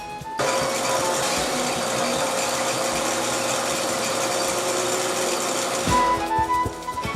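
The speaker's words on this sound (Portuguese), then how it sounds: "A máquina de costura não para." A sewing machine runs steadily at a workshop making São João festival costumes in Paraíba, a loud, close, continuous rapid whir that stops near the end and is followed by a few mechanical clicks.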